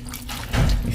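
Vinegar pours into a cooking pot that already holds fish and seasonings, a close, steady liquid splash that swells in the second half, with no talk.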